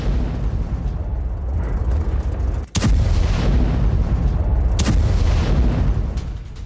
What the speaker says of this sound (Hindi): यूक्रेन के निप्रो में भी एमएलआरएस से ताबड़तोड़ हमलों को अंजाम दिया गया